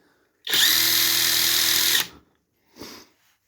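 A Stromo AWA25 impact wrench runs at its highest power setting, a loud, steady whirring burst lasting about a second and a half, followed by a brief, quieter blip.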